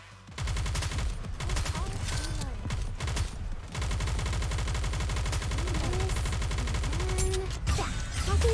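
Sustained rapid gunfire from the mobile shooter game Nikke: Goddess of Victory, dense automatic bursts running almost nonstop with a brief pause, loud and close, with game sound effects layered over it.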